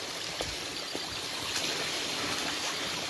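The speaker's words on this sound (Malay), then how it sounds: "ada lagi air terjun tapi kotor ya" Small, roughly three-metre waterfall in a jungle forest of North Aceh, its water strewn with old wood debris, giving a steady close rushing splash that fills the moment with no voices.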